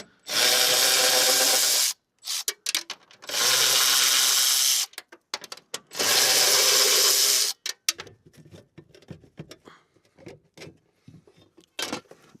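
Power tool removing fasteners from an Infiniti Q50 cover during a lowering-spring install: three loud sustained whirring bursts of about two seconds each, followed by quieter clicks and clatter of handling.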